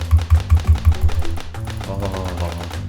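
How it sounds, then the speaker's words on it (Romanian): A knife chops shawarma meat on a board in quick, evenly spaced thuds, about seven close strikes that then blur into softer, faster cutting and scraping. "Tăiem shawarma, adică carne pentru shawarma."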